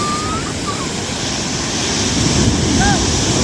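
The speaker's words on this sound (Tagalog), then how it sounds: "lalaki alon na" Ocean waves washing against a small boat at sea, a steady loud rush of surf and water with wind noise buffeting the microphone throughout.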